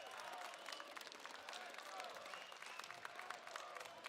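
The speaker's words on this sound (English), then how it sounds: "Might hear some clapping in the background." Steady applause from an arena crowd fills a CS2 Major match in Budapest, a continuous dense patter of clapping with a faint murmur and commentary voices underneath.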